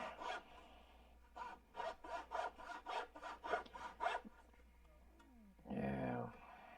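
A saw blade rasps back and forth through wood in about nine quick, even strokes up close, then stops; a brief clatter and a short burst of handling noise follow near the end.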